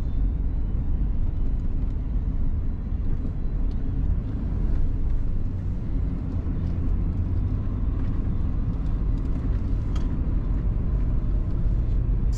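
A 1997 Lincoln Town Car Executive Series drives steadily along a road, a constant low engine and tire rumble with road noise and no voices.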